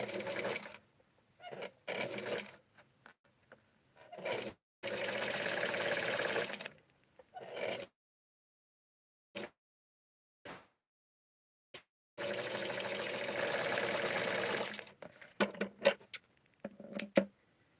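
Sewing machine stitching a wrap skirt for a Barbie doll from McCall pattern 6876, whirring in several sustained runs of a few seconds each, separated by silent pauses and short stop-start bursts.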